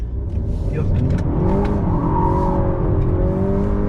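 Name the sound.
sedan accelerating out of a turn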